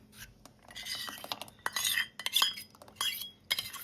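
A spoon stirs thick milk custard in a pot, making quiet, close, repeated scraping clinks against the pot in an uneven rhythm.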